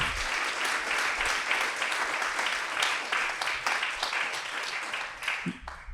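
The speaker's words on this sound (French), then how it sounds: "je pense qu'on peut les applaudir" Audience applause following a business conference talk on collaboration and performance, a dense, steady wash of many hands clapping that holds at an even level for several seconds before thinning toward the end.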